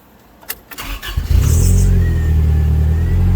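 A Toyota Tacoma engine cranks with a few quick clicks and whirs, then fires and settles into a loud, steady idle.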